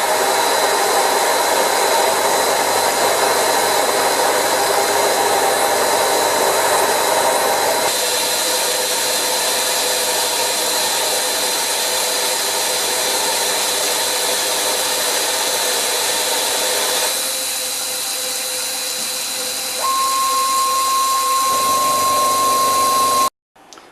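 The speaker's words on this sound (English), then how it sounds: "the material here is EN8 and the cutting speed is, well, it's a 1mm deep cut, feeding at 3 thou per rev, doing 750 RPM" Myford Super 7 lathe turning EN8 steel at 750 RPM, taking a 1 mm deep cut at 3 thou per rev: a steady whirring drone with a faint high whine, constant and close, ending abruptly.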